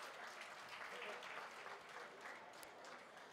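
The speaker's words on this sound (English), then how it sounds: "Let's clap hands for the youth colleagues." Faint, distant audience clapping at a provincial youth employment workshop, an even, continuous patter of hands throughout.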